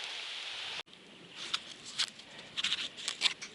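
Rain begins falling on a hiking trail, scattered drops pattering sparsely and close by, the taps growing irregularly more frequent against a quiet background.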